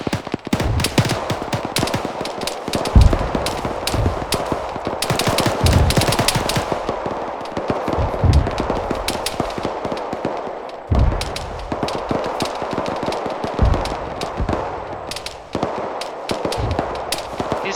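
ArmA 3 combat with tracer fire: dense, continuous machine-gun bursts and scattered gunshots, loud and near with distant echoing reports, sustained throughout without pause.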